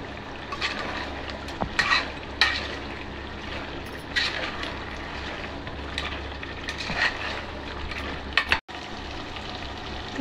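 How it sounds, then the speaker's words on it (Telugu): Spiced chicken curry stirred in a pan, a steady sizzle and frying hiss with irregular scraping strokes of the spoon, close and alone without talk. "బాగా కలుపుకోవాలండి. కారం అది బాగా ముక్కలు పట్టాలి."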